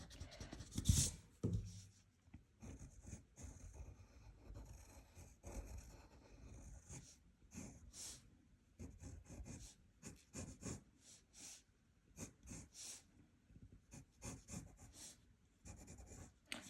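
Pencil scratching and rubbing on paper while drawing and erasing, faint, soft strokes in short irregular bursts, close up with a brief louder knock near the start.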